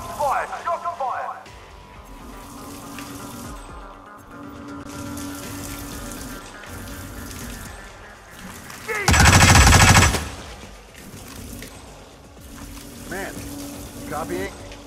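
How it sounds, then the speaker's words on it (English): Gunfire in the Hitman video game on the Colorado level: muffled in-game ambience and radio-style character voices, broken by a loud, dense burst of shots lasting about a second. "All units, shots fired! Shots fired!"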